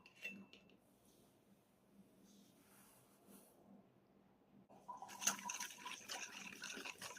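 A utensil clinks and scrapes in a bowl of pancake batter, faint at first, then louder and busier with quick metallic taps as the mixing picks up.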